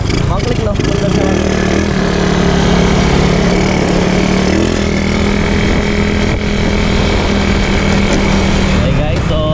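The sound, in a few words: motorcycle engine idling with Keihin flat slide carburetor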